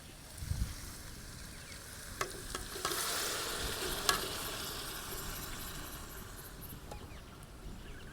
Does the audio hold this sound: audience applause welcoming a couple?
no